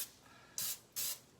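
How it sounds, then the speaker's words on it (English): Two short bursts of cooking spray hiss out of a can into a bread pan, each about a fifth of a second, close and fairly loud against a quiet background. "I like to use a little bit of cooking spray in here."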